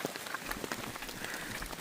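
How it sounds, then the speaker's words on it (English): Rain patters steadily on a boggy marsh trail with boardwalk planks, a soft, dense hiss of many drops at moderate distance. "Then it began to rain"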